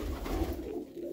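A pigeon coos once nearby, a soft, low, throaty call that sounds distinct against a quiet background.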